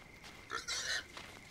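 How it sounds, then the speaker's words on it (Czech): A pig in the video game Force of Nature 2 gives a short oink-like grunt in two quick bursts, moderately close over a steady faint game ambience hum. "Hm, prasátko."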